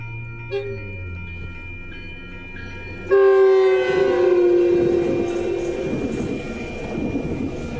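A Metrolink cab car sounds its train horn in the morning: after a few seconds of quiet rail ambience, one loud sustained horn blast starts abruptly and holds for several seconds before easing off.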